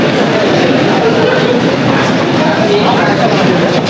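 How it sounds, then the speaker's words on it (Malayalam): A Delhi metro train rumbles through a station, a loud steady roar of wheels on rails with faint clatter, and voices murmur beneath it. "ഡൽഹി മെട്രോ കയറാൻ നമ്മൾ മെട്രോ സ്റ്റേഷനിലെത്തി"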